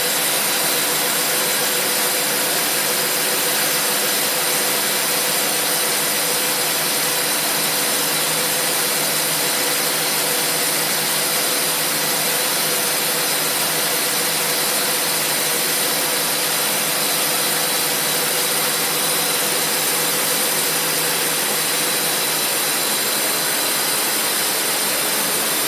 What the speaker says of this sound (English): I want you to stall the motor out with the left one.